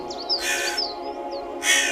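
A crow caws a few times in quick succession, with brief bursts of hiss or rustle, fairly close and clear.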